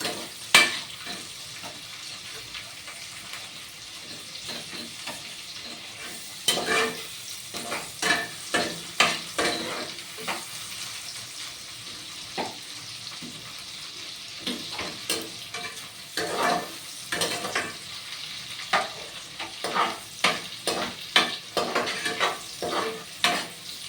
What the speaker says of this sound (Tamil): தக்காளி ஒரு பேஸ்ட் கன்சிஸ்டன்சி வர வரையும் நம்ம வந்து நல்லா எண்ணெயில கலக்கிடுவோம்.